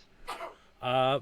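A single short sneeze bursts out, followed by a brief voiced sound, quiet and close in an otherwise still room.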